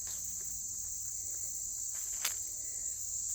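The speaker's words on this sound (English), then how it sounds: "the meadow katydids and the cicadas and the grasshoppers and the crickets and the tree crickets" Crickets, tree crickets, meadow katydids, cicadas and grasshoppers chirp continuously in an old field with a high, steady trill, and a soft tap or rustle is heard once.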